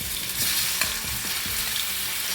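Soya chunks fry in a little leftover oil in a pan for veg biryani, a steady close sizzle with brief stirring clicks and scrapes throughout, no talking.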